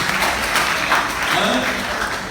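Steady applause from a crowd, a dense wash of clapping that continues without a break for a couple of seconds.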